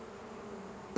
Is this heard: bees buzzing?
yes